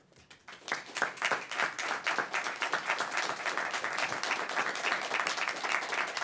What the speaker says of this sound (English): we don't clap in this. That that is not appropriate.